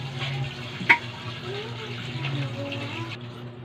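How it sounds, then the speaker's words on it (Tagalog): Water runs steadily into a container as it is filled, a soft continuous splashing hiss with a sharp clank near the start. A low background hum sits underneath. "Lagyan mo natin siya na punuin mo na siya ng tubig bago natin paikutin."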